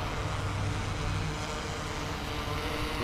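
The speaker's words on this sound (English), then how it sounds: "Let me land the drone." A DJI Inspire 2 drone flies over a graffiti park in Houston, Texas, giving a steady, dense whirring buzz of propellers that holds at a fairly constant level throughout, with no speech.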